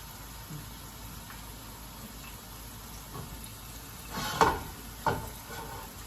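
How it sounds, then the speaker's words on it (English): Soft, steady sizzling of salmon and shrimp in a hot pan, with a couple of louder crackling bursts and the clink of utensils near the end. "See, you hear that sizzle?"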